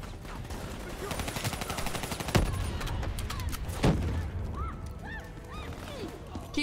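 Call of Duty gunfire crackles in repeated bursts and single sharp shots at moderate loudness, mixed with game effects and a few louder impacts near the middle.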